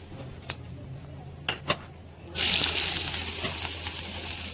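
Water is run to fill a vessel for cooking poha in a kitchen: a few faint clicks and taps, then a strong, steady gush of running water begins partway through and continues to the end.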